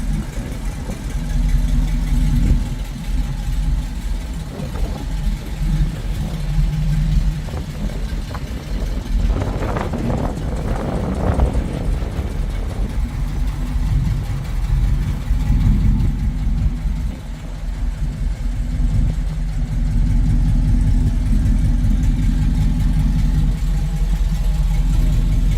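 A 1970 Chevrolet C/K 30 truck idles with its exhaust valves open, giving a loud, steady, deep rumble heard from outside, with a brief stretch of rougher revving in the middle.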